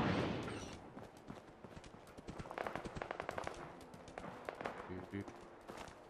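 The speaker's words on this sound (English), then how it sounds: "I hear gunfire" Rapid bursts of gunfire crackle at a moderate distance in Fallout 4 played in VR, mixed with clattering game effects and occasional speech, all fairly quiet.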